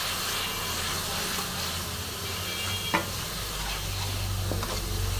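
Spice paste for a potato fritter curry stir-fried in a pan with salt and sugar, a steady close sizzle with a scrape of the spatula midway and livelier hissing near the end.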